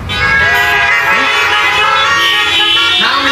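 Several car horns honk together at a crowded outdoor gathering, a loud, sustained, overlapping blare that runs unbroken for a few seconds with no pauses.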